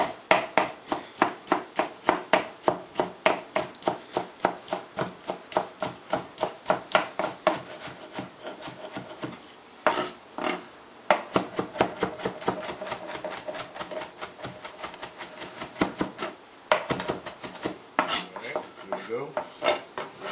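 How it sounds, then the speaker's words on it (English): Ingredients roughly chopped with a knife on a board, a long run of quick, sharp, evenly spaced knocks with brief pauses between bursts, close and clear, no talk. "I'll go ahead and give me a nice rough chop on these 2."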